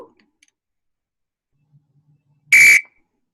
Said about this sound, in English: then we'll hear another ref whistle